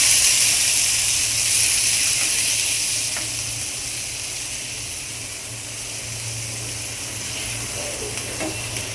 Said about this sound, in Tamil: அதை தக்காளியை போட்டு அதில் வதக்கிக்க போகிறா.